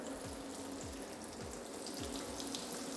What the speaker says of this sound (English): just run some water